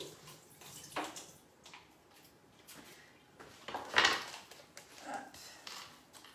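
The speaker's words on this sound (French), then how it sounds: "je vire l'eau avant de m'en mettre partout" Water being tipped out in a home kitchen while cooking, a soft splashing rush that swells around the middle and trails off, with quiet handling noises before and after.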